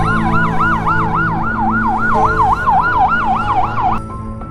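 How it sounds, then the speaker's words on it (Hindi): A wailing ambulance siren rises and falls in a steady, rapid cycle, loud and close, with a low vehicle rumble underneath. "ये बोलते ही एम्बुलेंस की आवाज आने लग जाती है, लगता है इनका एम्बुलेंस आ चुका है।"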